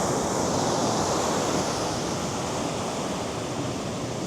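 Ocean waves at a sandy beach with an incoming tide wash in as a steady, loud roar of surf, continuous and unbroken with no voices.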